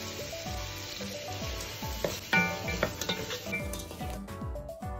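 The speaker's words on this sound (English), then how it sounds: "Add the peas and peppers and mix it for a while till the vegetable has softened" Diced carrot, peas and peppers sizzling in a pan while being stirred, with repeated soft scraping strokes and a few metallic clinks of utensil against pan, fairly quiet and close.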